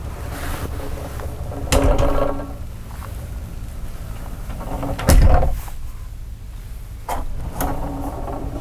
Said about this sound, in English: This is a double pocket door.